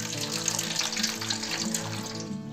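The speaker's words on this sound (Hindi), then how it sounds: "हम पहली बार पानी दे रहे हैं तो मैं पूरा गमला पानी से भर दूंगी।" Water splashes steadily as a potted caladium is filled to the brim during its first watering after repotting. A continuous close pour sounds like a running tap, with no talk over it.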